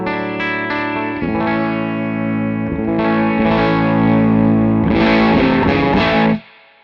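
An electric guitar with a humbucker in a Strat is driven hard through an LPD Head-On Boost pedal, giving thick, distorted chords with a heavy sustained tone and a few strummed changes before it is cut off abruptly.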